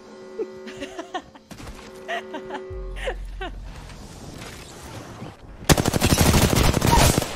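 Rapid automatic gunfire in Apex Legends breaks out near the end in a loud, dense burst, following sparse in-game effects and a low rumble, with a voice talking faintly over the top.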